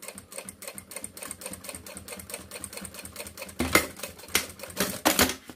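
A sewing machine stitches a synthetic-material wallet in rapid, even mechanical bursts, close and steady at first, then louder and harsher in the last two seconds, with no talk.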